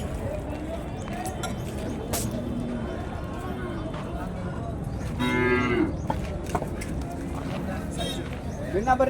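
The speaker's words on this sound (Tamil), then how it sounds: "இந்த பக்கம் கொஞ்சம் காளையெல்லாம் இருக்குது, கண்ணுக்குட்டியும் இருக்குது." Cattle moo at the Kundarapalli cattle market, a clear lowing call standing out midway over a busy crowd of voices and market bustle, with other livestock sounds scattered around.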